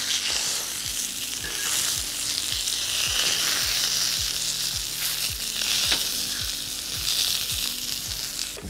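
Endives sizzling loudly on an outdoor brazier plancha as they are turned, a dense close frying hiss running the whole time with light scraping and tapping from the flipping.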